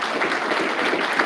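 An audience at an Israelite summit in Atlanta gives a round of applause, a brief dense wash of clapping at steady, fairly loud level.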